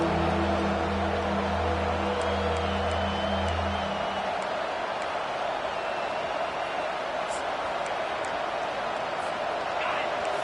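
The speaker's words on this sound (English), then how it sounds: "Decibels rising as the crowd gets behind this defense on third down." A football stadium crowd roars on third down as a sustained, dense wall of cheering fills the space at steady loudness, with a low tonal hum underneath during the first few seconds and scattered whistles and shouts rising from the stands.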